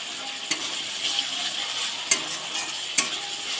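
Spice masala sautés in a pan with a continuous close sizzle, punctuated by three sharp scrapes or clinks of the spoon against the pan, no talking.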